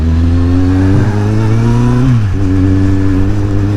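A motorcycle rides along a road in south east France, its engine droning loudly and close with pitch rising as it revs, then dropping briefly at a gear change before climbing again.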